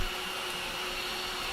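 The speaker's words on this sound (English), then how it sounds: "So this is a food processor. Makes quick work." A food processor whirs steadily as it crushes a pound of tofu with coriander, parsley and spices, a constant motor drone close by with no talking.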